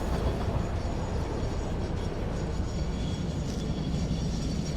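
A train runs in the factory-building video game Satisfactory with a steady, loud, low mechanical rumble and a faint rattle that holds even for several seconds, with no one speaking.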